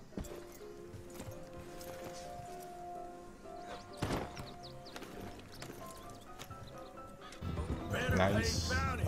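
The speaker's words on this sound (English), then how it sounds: "Poor horse is stuck." A stuck horse whinnies loudly in Red Dead Redemption 2, with thumping hooves and game ambience underneath, then a burst of louder clattering noise near the end.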